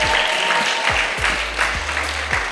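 A gala crowd claps at a fashion show for the designers, a sustained round of applause with a few sharper claps and low thumps, and no speech on top.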